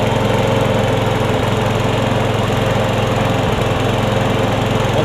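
Briggs and Stratton lawn mower engine on a Craftsman mower with a Husqvarna deck, oil in the muffler, running loud and steady up close with a constant throbbing drone.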